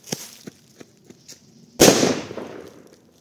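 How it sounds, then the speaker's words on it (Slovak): A homemade 4-gram firecracker bursts with a single sharp, loud bang that decays quickly, preceded by faint rhythmic ticking from a burning fuse. "Takže máme tu prvú domácu vyrobenú petardu, má to 4 gramy"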